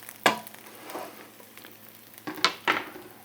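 Eggs fry in a pan while their yolks finish cooking for an American breakfast, a faint steady sizzle broken by a few sharp clinks and scrapes of a utensil against the pan.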